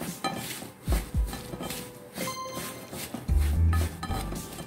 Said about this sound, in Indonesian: Kita gaul rata.